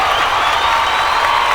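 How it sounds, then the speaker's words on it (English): Studio audience clapping and cheering on a podcast set, a dense, steady wash of applause filling the whole moment with no voices over it. "I'm gonna give the studio a clap."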